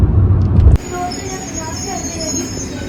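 A train heading toward Rome, Italy rumbles steadily with a faint high squeal of wheels on rails after a brief louder burst at the start, with no one talking.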